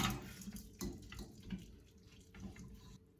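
Liquid from browned hamburger drains out of a pot in a steady, quiet trickling and splashing flow with small irregular bursts, heard alone at low level.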